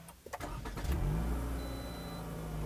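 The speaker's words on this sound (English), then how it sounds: "And it starts up with the typical Toyota starter noise of their, you know, four-cylinder engine." Toyota RAV4 four-cylinder engine cranks with a short starter whir, catches and settles into a steady smooth idle, close by and alone.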